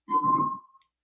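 A single sustained whistled tone held steady for about half a second, with a breathy low rumble underneath, then a faint high chirp as it fades out.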